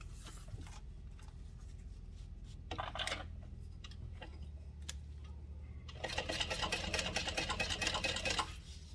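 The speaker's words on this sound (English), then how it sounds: "We're going to top stitch across the top here." A sewing machine top stitches through thick waterproof canvas folded several times, running in a short burst and then a longer steady stretch of rapid stitching, fairly quiet and close with no talking.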